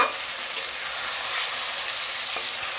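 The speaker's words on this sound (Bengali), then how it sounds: "কিছুক্ষণ সময় নিয়ে কিন্তু নাড়াচাড়া করে ভালো করে ভাজা ভাজা করে নিতে হবে।" Mutton keema with onion and tomato sizzles steadily in a hot pan as it is fried and stirred, a constant loud hiss with no talking.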